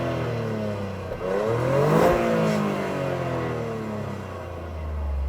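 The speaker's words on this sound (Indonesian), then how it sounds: "Seperti itu suaranya standar. Ya, suara mesin 3 silinder ya." A Toyota GR Yaris three-cylinder engine on its stock exhaust revs up from idle to a single rising peak and falls back, loud and close, with no talking.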